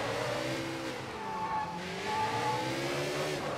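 A car in the video game Sleeping Dogs Definitive Edition revs as it drives, its engine pitch rising and falling over road and tire noise, heard alone without speech.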